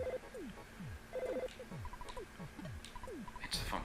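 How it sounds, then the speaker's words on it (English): A telephone rings in the SNES game Earthbound, a soft, repeating pattern of electronic chirps and falling blips in a regular rhythm, with faint game music underneath. "It's the phone."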